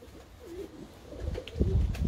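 Pigeons in a coop cooing softly at close range in a low rolling rhythm, with rustling and handling noise rising underneath toward the end.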